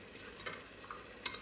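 Chicken broth sauce frying in a pot with a soft sizzle and a few faint scraping stirs, quiet and close.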